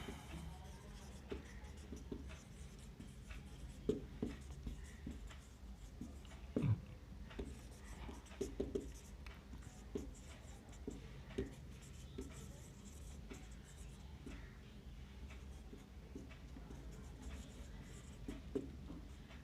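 Hand writing during an accounting lesson, with faint pen strokes and taps scratching quietly and irregularly under a low steady hum.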